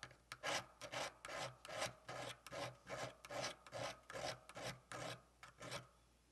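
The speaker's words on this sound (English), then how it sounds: "you can also take your file and file down so that it's nice and flat as well" A hand file rasping a sawn metal jewelry plate edge flat, with about a dozen even back-and-forth strokes in steady rhythm, close and clear with no talking.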